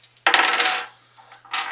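Misspotted dice known as door pops tumble across a table, a loud clattering roll that rattles for about half a second, dies down, then a second burst of clatter near the end.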